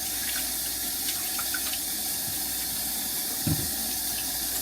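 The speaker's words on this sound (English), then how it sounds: "I gotta wash my hands." Hands washed under a running tap after cooking pork ribs on a Blackstone flat top griddle, a constant moderate water rush with faint splashes and one soft bump.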